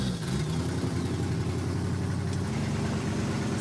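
A hotwired tow truck engine running at a steady, low rumbling idle, close and continuous, with faint mechanical clatter.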